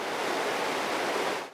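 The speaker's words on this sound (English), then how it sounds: "and the water coursing down a local stream." Steady rushing water flows continuously down a local stream with an even, hissing wash and no breaks or voices.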